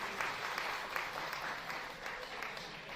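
An audience in a room claps together, steady moderate applause lasting a few seconds at some distance.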